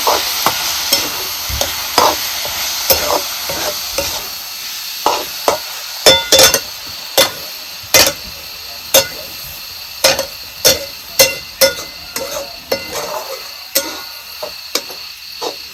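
Green chili chutney sautéing in a pan, a spatula tapping and scraping in steady repeated strokes over a continuous sizzle, close and loud, with no talking.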